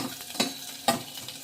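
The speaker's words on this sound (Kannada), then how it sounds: "ಇದು ಬಿಸಿ ಇದು ಫ್ರೈ ಆಗ್ತಾ ಇದೆ" Mushroom masala with onions frying in a hot pan, a soft continuous sizzle broken by two brief scraping stirs, close and without talk.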